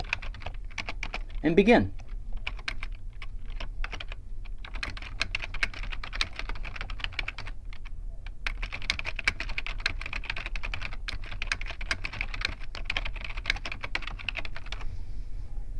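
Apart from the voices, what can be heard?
typing on a computer keyboard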